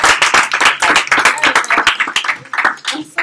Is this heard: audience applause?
yes